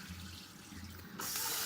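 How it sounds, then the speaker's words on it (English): Water running from a sink tap onto rice for rinsing, a soft low rumble that swells into a louder rushing splash near the end, brief and close. "I'm gonna take this over, give it a rinse."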